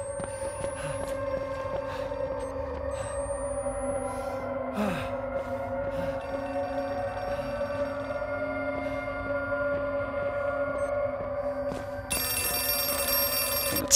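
A telephone rings repeatedly in the tense horror video game Outlast 2, a steady electronic bell tone over a low droning ambience, with a harsh burst of noise near the end.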